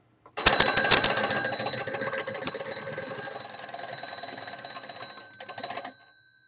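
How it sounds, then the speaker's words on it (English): The bells of an antique Stromberg-Carlson candlestick crank magneto telephone ring in a loud, rapid jangle close by. The ringing runs steadily for several seconds, then falters and fades out, with no talking. "when I cranked it, the bells rang."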